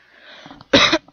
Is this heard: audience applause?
no